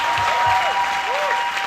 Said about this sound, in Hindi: अब थोड़ी और तालियां चाहिए।